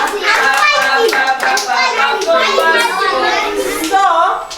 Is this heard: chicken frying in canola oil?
no